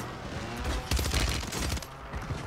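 Gunfire in the video game Call of Duty Warzone, a rapid burst of automatic shots in the middle of a rumbling game soundscape, moderately loud with no talk over it.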